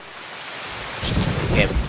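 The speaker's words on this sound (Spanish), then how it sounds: "Mira la tormenta y todo esto lo han puesto nuevo" A thunderstorm with steady rain sounds in the video game Escape from Tarkov, a broad hiss of rainfall that swells into a low rumble of thunder partway through, with faint voices in the background.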